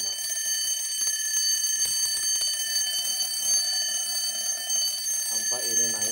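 A bright metallic alarm bell of a Frisian Dutch tail clock (staartklok) rings continuously and loudly throughout, with a voice briefly speaking underneath near the end.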